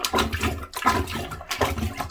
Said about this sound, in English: So as I plunge this,